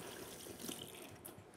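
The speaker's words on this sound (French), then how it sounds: "je rince tout de suite les mains" Hands are rinsed under a running kitchen tap after handling egg while preparing a chocolate fondant, a faint, steady wash of flowing water with no voices.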